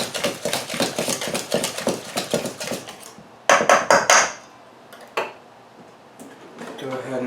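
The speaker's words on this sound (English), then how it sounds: "And whisk all of that together." A whisk beats homemade ranch dressing with lemon juice in a bowl, rapid rhythmic clinking strokes for a few seconds, then a shorter quicker burst and a lone tap, close and fairly loud.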